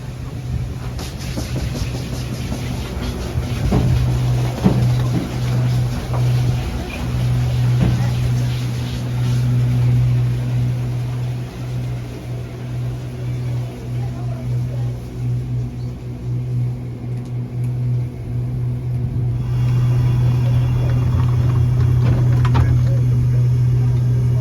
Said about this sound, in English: From here, visitors have to take the Getty Tram.